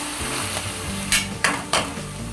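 Chicken curry with ginger garlic paste fries in a pan, a steady sizzle with a low bubbling underneath. Three sharp spoon-against-pan scrapes cut through it near the end.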